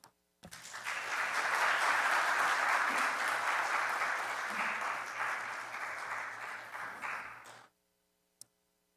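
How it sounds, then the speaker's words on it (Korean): A congregation at a seminary preaching festival applauds as a preacher steps forward, a dense, sustained wash of clapping that swells quickly and holds for about seven seconds before stopping abruptly, followed by a lone tick. "나오실 때 박수로 격려해 주십시오."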